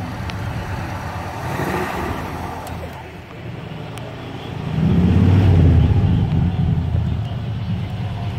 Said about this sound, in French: moteur qui tourne très bien